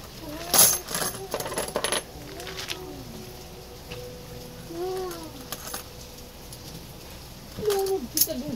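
Coins clink and drop in a few bright metallic bursts, close and sharp, with quiet gaps between and faint background noise.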